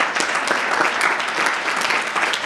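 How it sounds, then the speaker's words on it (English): Audience applause fills a speaking event, dense and steady clapping from a gathered crowd sustained throughout without pause or voices. "So, quick round of applause."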